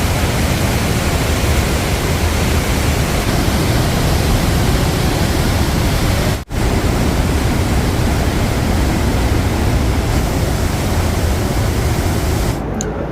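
Trümmelbach Falls in Switzerland, water cascading through enclosed rock chambers, a loud, constant broadband roar heard up close that fills everything and barely dips for a moment partway through.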